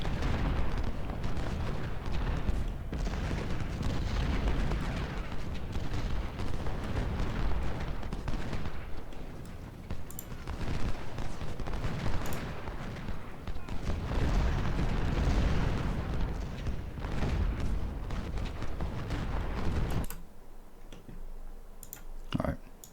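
Artillery firing in the Civil War game Ultimate General, a dense, continuous rumble of cannon and gunfire with scattered sharp reports, loud and sustained throughout before dropping off abruptly near the end.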